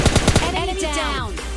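A quick burst of about four rapid gunshots in the mobile shooter PUBG Lite opens the moment, then a voice speaks over a low, steady game background.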